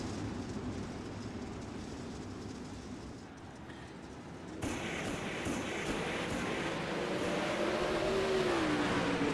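Race cars on a short-track oval accelerating as the pace truck pulls off, engines building from a steady drone to a louder rising roar after a sudden jump midway, continuous and fairly distant.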